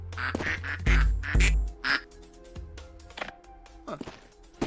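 Ducks quack loudly in rapid bursts, several close calls overlapping early then thinning into scattered quacks, from a watched video with thumping impacts mixed in.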